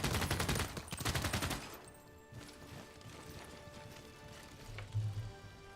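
Artillery fire in the Civilization VI strategy game: a dense burst of loud overlapping gunshot blasts for the first two seconds, then a quieter rumbling tail with one more low boom near the end.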